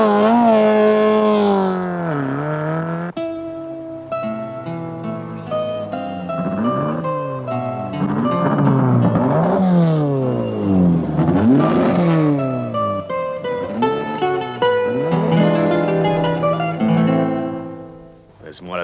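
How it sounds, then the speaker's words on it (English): A 1960s car engine roars and revs as it drives off, pitch sweeping up and down through repeated gear changes and throttle bursts, loud and close, then fading away at the end. "You're gonna drive this car around the corner and onto the center of the bridge."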